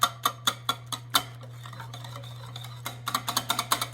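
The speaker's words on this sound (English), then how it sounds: "slowly add the oil right in and continue mixing" Biscotti batter being mixed by hand as oil is poured in, a spoon or whisk scraping the bowl in quick rhythmic clicks, pausing briefly and then resuming faster, close and clear over a steady low hum.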